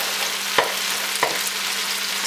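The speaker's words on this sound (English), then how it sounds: "I'm just going to fry an egg, because that's what you do in classic Asian stir fry" An egg frying in hot butter for a pork fried rice sizzles steadily with a dense, even hiss, broken by two quick pops or spatters.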